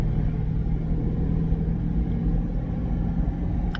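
A pickup truck's 5.7-litre V8 engine labors in 4-wheel drive, a steady deep rumble with a low droning hum, close and constant without talk.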